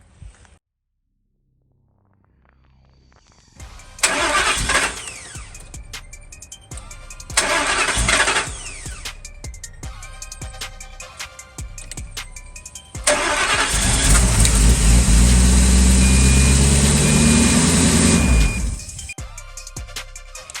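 A car engine cranks in the cold, powered by a portable jump starter: two short loud cranking bursts, then a longer, louder run of cranking and engine roar that cuts off sharply, heard close up with no talk.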